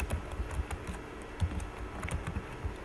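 Typing on a computer keyboard during a PHP and MySQL coding tutorial, a soft, irregular patter of close, light key clicks in quick bursts with no speech.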